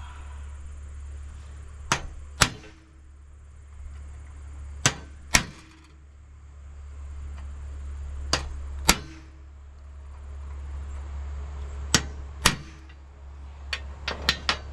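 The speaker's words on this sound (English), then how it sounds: "Now I'll take a real center punch and I'll hit all these with a little bit deeper of a mark." A steel center punch is struck into metal to mark holes for drilling, giving sharp, isolated metallic taps, often in pairs, spaced a few seconds apart over a steady low hum, with no talking.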